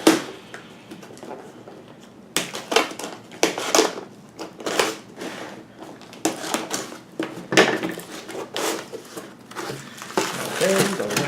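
Packaging around a replacement LCD panel for a Dell Latitude E7440 laptop is torn and unwrapped, giving a run of crinkling, crackling and tapping bursts up close, with a quiet pause near the start and busy rustling through the rest.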